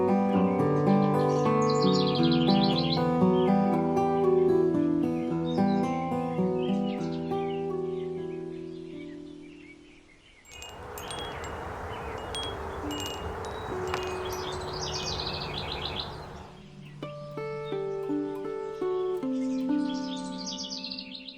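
Songbirds singing in a cottage garden in spring: varied, melodic phrases and chirps repeat close by, briefly giving way to a rushing noise in the middle before the song resumes.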